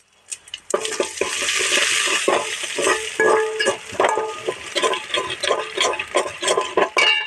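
Vadavam and asafoetida crackle and splutter in hot oil while cooking spinach rasam, a busy continuous sizzle with sharp pops and a few metallic clinks of a utensil.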